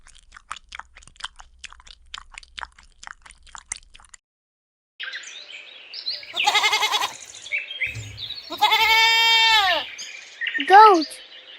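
A farm goat bleats a few times, loud and wavering, after an opening stretch of faint clicks and chirps, with a final short high cry.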